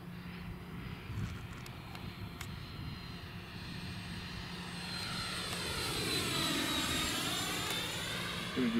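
A T-45 jet trainer makes a gear-down pass straight toward the listener, its engine whine building from a distant rumble into a louder, rising roar with a sweeping pitch as it nears and passes overhead.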